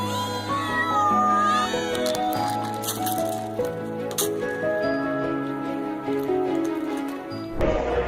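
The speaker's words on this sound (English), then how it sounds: "This man wakes up to see 10 cats screaming for breakfast on his." Ten cats clamour for breakfast on a porch, their overlapping loud meows and yowls rising and falling continuously, close by and with no talk.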